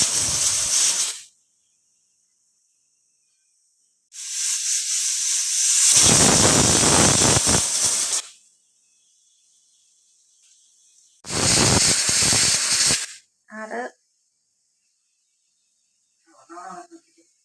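A pressure cooker cooking clam meat vents steam in three loud, separate hissing bursts, with a steady high whistle running through them. Softer clicks and rattles follow near the end.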